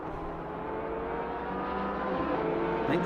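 BMW and Porsche race cars lapping Monza, engines droning in a continuous high whine that swells slightly louder toward the end, no voices.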